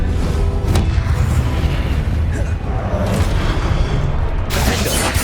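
Spell blasts cast in the video game Hogwarts Legacy, fire and explosive spells in a duel, booming bursts over a dense, continuous rumble with sharp bright cracks, loud and near throughout.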